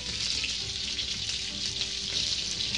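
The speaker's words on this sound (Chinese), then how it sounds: "竖一会儿，让它煎到金黄。" Chicken wings pan-fry in shallow oil, giving a constant, loud, close sizzle and crackle with no voices.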